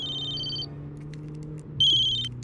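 Telephone ringing in two short electronic bursts separated by a brief gap, clear and close over a low background hum.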